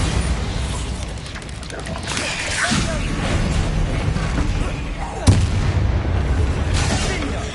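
Bombarda blasting spell explosion in the Hogwarts Legacy video game, a rumbling booming blast with a sharp crack around the middle amid dense noisy combat sound, fairly loud and sustained.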